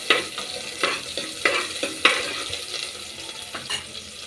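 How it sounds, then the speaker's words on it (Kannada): Onions sizzle in hot oil as they fry toward light brown for sambar, with a steady hiss broken by regular scraping stirs close by. "ಸೊ ಇದೆಲ್ಲ ಹಾಕಿ ಫ್ರೈ ಮಾಡ್ಕೋಬೇಕು."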